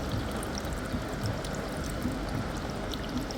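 Water pumped out of a Super General dryer pours in a steady, hissing stream, continuous and fairly loud without pauses.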